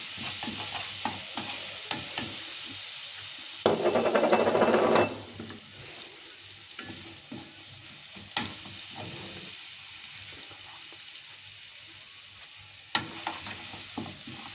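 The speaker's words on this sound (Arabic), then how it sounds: "ناخد تشويحه للفلفل كده" Peppers sautéing with mashed garlic in a pan, a low sizzle punctuated by spatula scrapes and taps, with a louder crackling burst partway through as the peppers hit the hot oil; no talking.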